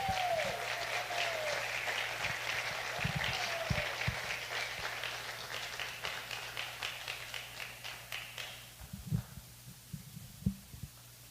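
An audience applauds for Carlos Chacón at a church gathering, a dense wash of clapping that thins into scattered claps and fades out near the end.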